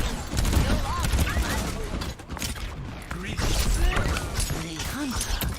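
Junkrat's concussive mines go off amid a chaotic Overwatch firefight, with loud overlapping blasts and rapid gunfire crackling throughout and game voices mixed in.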